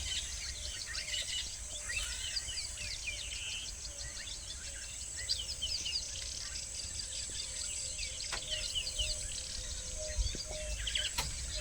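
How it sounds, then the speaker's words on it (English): Faint, distant bird calls and chirps mixed with insect trilling in the African bush of Greater Kruger Park, a quiet, continuous natural ambience with scattered tweets and no talking. "I'm going to let you appreciate all the beautiful bird calls and the sounds of the bush."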